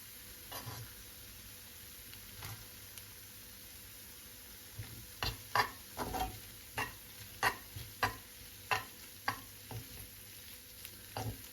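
Potatoes fried with melted kaşar cheese are stirred in a pan, a steady sizzle broken by a run of distinct scraping stirs, sparse at first and then coming in a quick regular rhythm.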